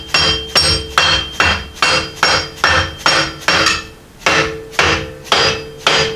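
Dead blow hammer seating an axle into an 8 inch Ford rearend housing on a Model A hot rod shop truck, about eleven loud, evenly spaced thuds with a brief pause midway.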